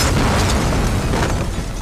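A dense, loud explosion boom from a TV drama trailer, a continuous rumbling blast with heavy low-end energy sustained for about two seconds without speech.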